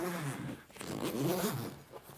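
Super chunky zipper on a travel bag being pulled open and closed, a close, continuous rasping run of coarse teeth with brief pauses and changes in pace.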